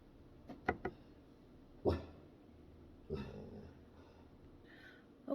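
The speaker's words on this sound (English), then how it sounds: "Never mind my dog. She's barking at people walking to their house, apparently." A dog indoors barks at people walking past outside, giving a few sharp, separate barks and yips spread across several seconds, sounding slightly distant with quiet pauses between them.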